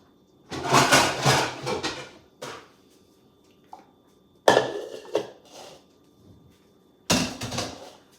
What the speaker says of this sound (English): let's get a bigger bowl